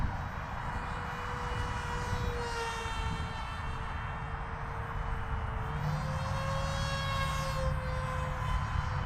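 A small 250-gram Dart RC airplane with a swapped motor cruising at around 30 mph, its thin electric whine steady and fairly distant, with the pitch shifting slightly as it flies past.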